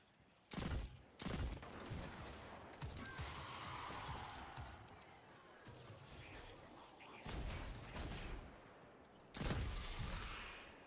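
Bursts of gunfire in Destiny 2 Lightfall break out in several loud volleys separated by brief gaps, with crackling and impacts trailing between the shots.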